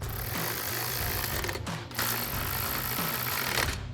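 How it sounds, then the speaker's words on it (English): A ratchet with a 13mm socket tightening an N-Fab roof rack bracket, giving a close, steady mechanical clicking for several seconds with a brief pause partway through and no voices. "13mm socket to tighten these down."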